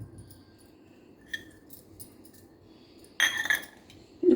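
A metal spoon stirring honey with chopped tulsi leaves in a small vessel, quiet at first with a faint tap, then a short burst of clinking and scraping near the end.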